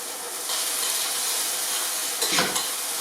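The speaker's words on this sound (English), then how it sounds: "Now we're going to put the garlic inside as well." Garlic hits hot oil in a pan and a steady loud sizzle takes off and holds, with a brief stirring scrape near the end; close and continuous, no voices.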